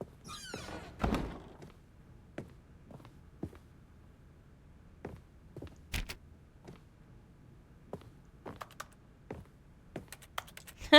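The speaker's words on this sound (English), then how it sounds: "just sounds like I'm clicking on a computer" Sparse keyboard clicks and taps come from an office in The Stanley Parable, scattered irregular keystrokes, fairly quiet, with a louder thump or sliding sound near the start.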